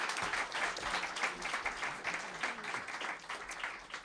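Audience applause for volunteers at a film festival awards night, moderately distant and soft, a continuous patter of many hands with faint voices murmuring underneath.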